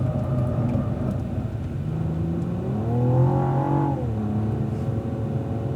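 A Cadillac ATS-V race car accelerates along the bridge straightaway at Fontana Speedway, its engine note climbing steadily in pitch as a sustained, close drone before briefly dipping, with no talk.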